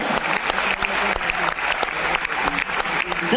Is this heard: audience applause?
yes